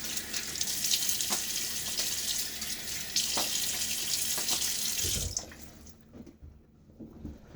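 Running tap water pours steadily as a razor is rinsed during a wet shave with a vintage Gillette single ring safety razor, the flow loud and close before cutting off abruptly, leaving a few soft drips and clinks.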